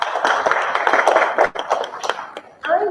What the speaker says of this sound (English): Really, you deserve the round of applause.